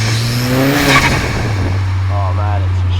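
A 450hp VW Caddy with a swapped 2.0 TFSI engine on a street drive, heard from inside as the engine revs hard and drops, loud and close, with a voice over it.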